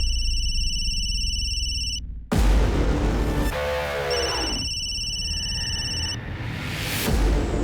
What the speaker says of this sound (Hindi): उस दिन भी फोन बहुत बज रहा था।